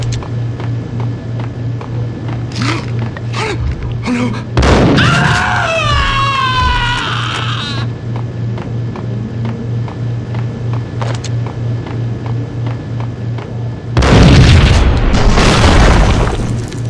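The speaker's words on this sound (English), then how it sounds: "I thought it was a bomb for sure." A loud explosion in the video game Max Payne on PS2 bursts in with a broadband boom followed by screaming, then a second heavy blast near the end, over a steady low hum.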